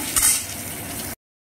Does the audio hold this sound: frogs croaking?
no